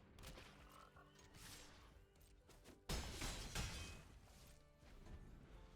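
Faint croaking from a frog card in the digital card game MTG Arena, followed by a sudden louder game impact burst partway through, all quiet and without talking.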